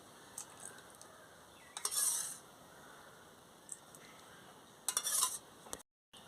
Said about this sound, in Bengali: এবার আমি ভিনিগারটা দিয়ে আমি ভালো করে গুলিয়ে নিচ্ছি।